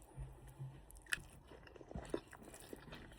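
Crab masala curry is chewed close up, with a few crisp crunching bites and softer wet mastication sounds spread unevenly across a quiet room.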